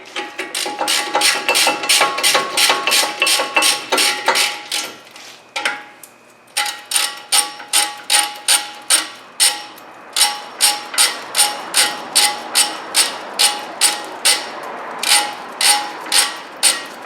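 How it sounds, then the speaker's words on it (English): Bolts on a 2007-2014 Ford Edge front brake caliper are snugged down with a 19 mm wrench, a fast steady string of sharp metallic ratchet clicks with one short pause, close and loud with no talk. "for now I'm just going to snug these in"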